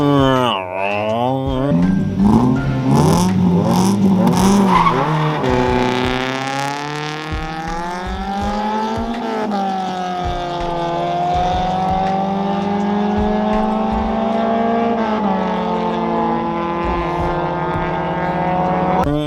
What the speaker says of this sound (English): you could hear the clutch slowly letting go